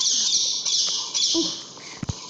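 A pet bird gives sharp, shrill squawks and chirps in a room, several short calls close to the microphone, with a brief thump near the end.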